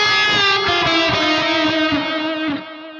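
An electric guitar chord runs through a Boss Space Echo RE-202 tape-echo effect with reverb blended in, ringing out with repeating echoes that smear and decay over about three seconds.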